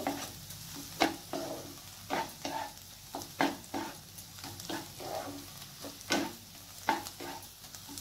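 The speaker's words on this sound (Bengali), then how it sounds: "পেঁয়াজটা যতক্ষণ না লাল লাল না হয় ততক্ষণ আমি পেঁয়াজটাকে নেড়ে যাব" Steady frying sizzle in a pan with repeated scraping stirs, irregular but frequent, close and fairly loud, no voices.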